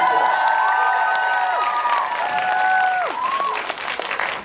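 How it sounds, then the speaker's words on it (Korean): An audience claps at a film talk event in a Lotte Cinema World Tower auditorium, a dense, continuous patter of hands mixed with high whistle-like cries that thins slightly toward the end. "박수 한번"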